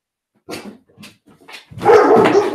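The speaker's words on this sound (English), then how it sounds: "That's a scary bark, isn't it?" A dog nearby gives three or four separate sharp barks, then breaks into a louder, continuous run of agitated barking.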